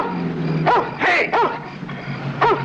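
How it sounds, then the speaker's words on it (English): A farmhouse dog barks outside at night, several sharp, fairly close barks in an uneven rhythm with short gaps, set against a low steady background hum. "And listen to that dog."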